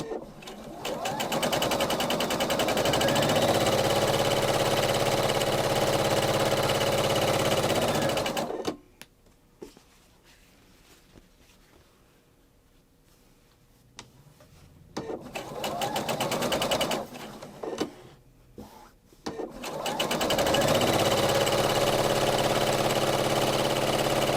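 A sewing machine runs in long steady bursts while chain piecing 10-inch quilt squares with accent strips, loud and close, pausing between runs with faint handling noise before starting again.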